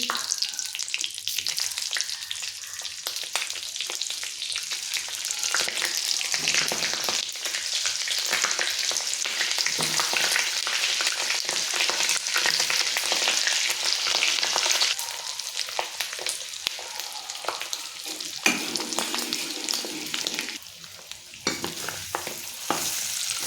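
Bitter gourds (karela) fry in hot oil at home, giving a dense, steady sizzle and crackle that holds loud and close throughout, with occasional stirring scrapes and no voices.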